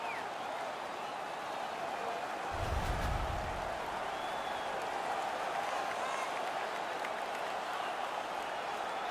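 An NHL 19 arena crowd in a Winnipeg Jets versus Minnesota Wild playoff game roars and applauds after a fight, a steady wash of cheering with a brief low thud near the start.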